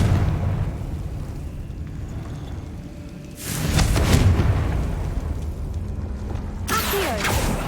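Confringo fire spell blasting in the video game Hogwarts Legacy: a sudden loud, booming explosion bursts in over a steady background rumble and keeps roaring, followed by a second crackling burst near the end.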